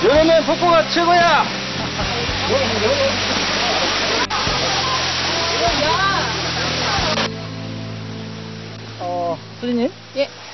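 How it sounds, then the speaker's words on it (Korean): A waterfall at Doman Mountain in a valley near Miryang rushes as a steady, loud wash of broadband water noise that fills the whole clip, with people talking and exclaiming over it. "여름엔 폭포가 최고야!"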